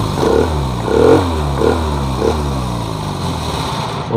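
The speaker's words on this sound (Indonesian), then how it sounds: "Jadi sekali engkol aja sudah hidup." Honda Scoopy-FI scooter engine idling right after a single kick start, close and steady with a lumpy, slightly rough rhythm and a few surges in the first two seconds, no talking.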